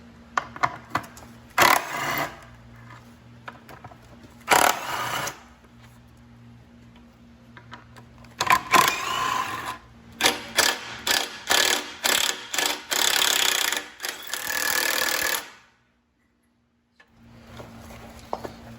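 A ratchet with a 10 mm deep socket backs nuts off a Fiat 500 Abarth's turbo and exhaust manifold, giving several bursts of rapid clicking with short pauses between them, close by and with no talk.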